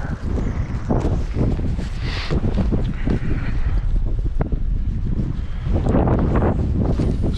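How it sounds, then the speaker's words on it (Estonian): Strong wind blows from behind on an outdoor sea trout fishing trip, buffeting the microphone in loud, gusty rumbling bursts throughout. "Nüüd on tugev tuul selja tagant."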